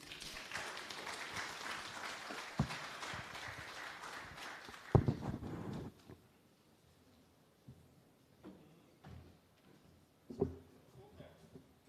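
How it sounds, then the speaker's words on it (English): An audience at a Justices of the Peace installation ceremony in St James applauds a musical tribute, with dense clapping that lasts several seconds, then breaks off into a quiet room with scattered thumps and a few isolated claps. "Give him a round of applause again, ladies and gentlemen."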